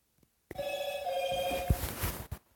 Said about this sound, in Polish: jeszcze telefon mojego taty dzwoni